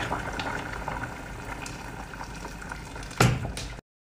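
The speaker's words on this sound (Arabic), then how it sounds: "ننزل على الماء الحار وبخليها تطبخ" Chicken simmering in a pot of hot boiling water, a soft continuous bubbling hiss with faint clinks, a brief louder clatter near the end before it cuts to silence.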